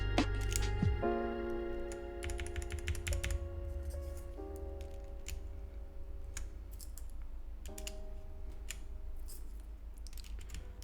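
Clacky keystrokes on a cheap tape-modded £3 Temu keyboard, with a damaged spacebar stabilizer, come in quick irregular bursts of close, crisp clicks over a steady low hum.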